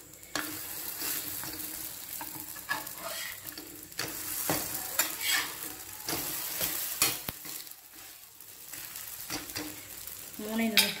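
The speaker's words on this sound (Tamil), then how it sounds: "ஒரு சைடு வெந்துருச்சு. இப்போ நம்ம இதை திருப்பி போட்டுக்கலாம்." A layered parotta sizzles steadily in oil on a hot pan, a close, constant frying hiss broken by scraping and tapping of a spatula as the flatbread is turned over, with sharper clinks near the end.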